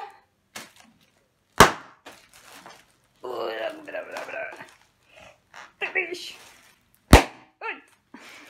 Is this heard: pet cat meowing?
no